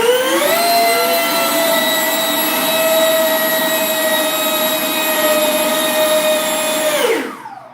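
The electric ducted fan of an Art Tech F-14 RC jet runs at full thrust on a 3S or 4S battery. It gives a loud, close, steady high whine for about seven seconds, then spools down abruptly.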